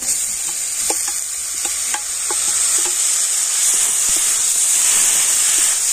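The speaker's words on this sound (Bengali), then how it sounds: "আর এবার আমি গ্রেট করে রাখা বাঁধাকপিটা দিয়ে দেব।" Grated cabbage hitting a hot frying pan, a steady loud sizzle and hiss with scattered scraping taps of a spoon stirring, close and continuous without talk.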